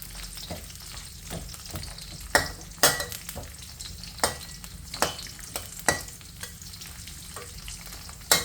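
Green Indian trumpet tree (pheka) pods fry in hot oil with a steady close sizzle, broken by sharp clinks and scrapes of a utensil stirring the pan at irregular intervals.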